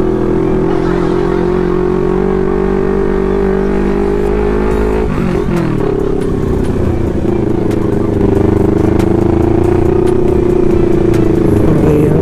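A heavy-loaded motorcycle labors up a steep, slippery mountain trail toward Mt. Gulugod Baboy in Batangas, its engine droning steadily with a brief shift in pitch midway and rough rattling throughout, close and loud.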